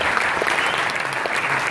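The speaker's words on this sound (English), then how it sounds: "Big round of applause for Tom there." Dense audience applause in a conference hall at Eurobest 2015, a steady wash of clapping hands following a talk, sustained and fairly loud throughout with no voices.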